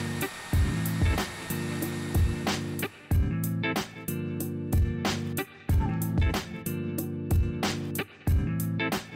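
A hair dryer heats a OnePlus 7T phone skin, blowing in repeated loud bursts that cut off briefly and restart, each start with a sharp click, close to the listener and with no talking.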